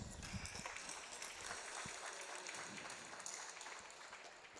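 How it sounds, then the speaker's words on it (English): Faint, distant audience applause for the athletes at a national doubles final, a soft continuous patter of clapping mixed with low background noise. "Let's get a round of applause for the athletes, please."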